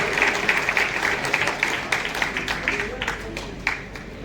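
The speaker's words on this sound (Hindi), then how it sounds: "एक बार जोरदार तालियां" A crowd at a student award ceremony bursts into loud, sustained applause, many hands clapping together for several seconds.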